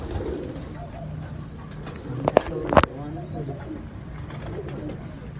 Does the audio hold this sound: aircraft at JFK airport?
no